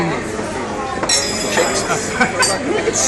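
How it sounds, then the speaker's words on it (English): Drinking glasses clink together during a celebratory toast, with a couple of bright, short chimes rising over overlapping chatter and talk. "Are you still clinking? Yeah, we'll clink."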